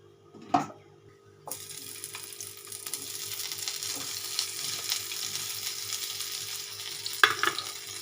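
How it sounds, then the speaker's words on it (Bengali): Boiled potato pieces frying in refined oil with cumin seeds burst into a steady close sizzle after a sharp clatter, with a couple of utensil knocks over the continuous frying. "একটু সাদা জিরে দিলাম, দিয়ে আলুগুলোকে একটু ভাজবো"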